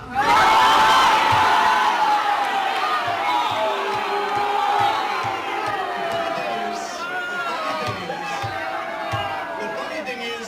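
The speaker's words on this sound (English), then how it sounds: "They stood up, they went wild, they were cheering and clapping." A crowd at a political event roars with cheering, shouting and whooping, loud from the start and easing slightly but sustained throughout, with a dense blur of voices.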